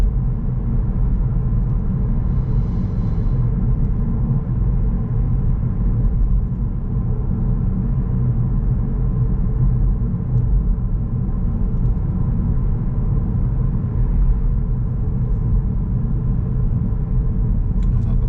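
A car drives on a dry suburban road in Southampton in light traffic, with a steady low engine and road rumble heard from inside the cabin, continuous and unbroken.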